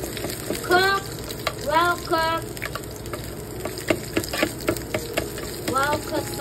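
A sunny-side-up egg fries in a pan with a steady, close sizzle and crackle, while a voice talks intermittently over the cooking.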